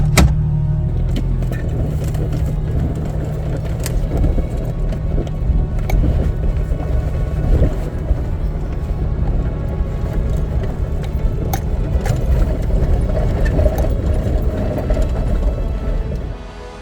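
A car drives along a road toward the North Dakota Badlands, a steady engine and tire rumble with light rattling clicks heard from inside the cabin throughout, continuous and fairly loud.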